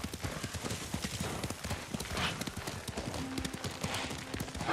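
Horse hooves clip-clop steadily at a trot in the video game Ghost of Tsushima, with an occasional whinny and ambient game background noise.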